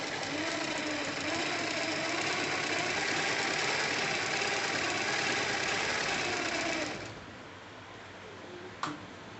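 Sewing machine running a line of stitching through buckram on a kurta collar, a close, steady whirring hum that stops sharply near the end, followed by a quiet pause and one brief click.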